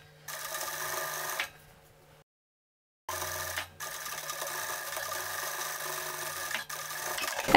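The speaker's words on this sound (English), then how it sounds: "Let the fabric run naturally through the sewing machine." A sewing machine stitching a polo shirt hem runs in a steady buzzing whir, stops briefly for a couple of seconds, then starts again and keeps stitching.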